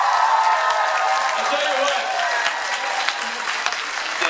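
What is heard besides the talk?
audience applause for Speight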